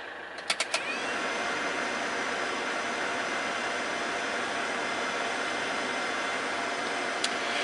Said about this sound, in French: Ça fait 5-10 minutes que je suis en train de faire chauffer le moteur